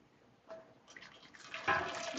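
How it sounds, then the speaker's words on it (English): Freshly boiled water is poured from a pot into a pan to make a proof box for soft pretzels, a soft splashing stream that starts quietly and grows fuller and louder toward the end. "Pouring it in the pan so I can make my proof box."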